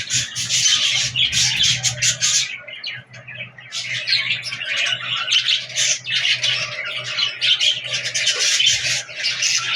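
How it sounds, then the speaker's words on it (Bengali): A tiger dove sitting on eggs in its nest, heard amid a busy chorus of loud, close squawks and chirps from caged birds that continue nearly without pause. "আমার টাইগার ঘুঘু ডিম নিয়ে"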